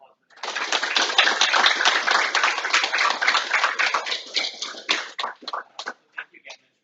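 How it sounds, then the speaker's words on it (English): A small audience claps for a guest speaker named Mitch after a disability presentation, close, brisk clapping that swells quickly, then thins into a few scattered last claps before silence. "Can we please give a round of applause for"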